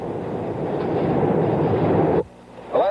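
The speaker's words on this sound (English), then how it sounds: "One such train is the Broadway Limited from New York to Chicago on the old Pennsylvania line." Amtrak Broadway Limited passenger train on the old Pennsylvania line, rolling past with a steady loud rumble that drops off abruptly near the end before a brief new burst of noise.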